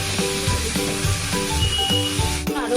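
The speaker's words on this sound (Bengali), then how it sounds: "শাকের কাঁচা গন্ধটা যেন চলে যায় এরকম সময় অবধি আমরা এটাকে ভেজে নেব।" Spinach leaves are stir-fried in a pan until soft, with a steady close sizzle broken by regular scraping and stirring strokes.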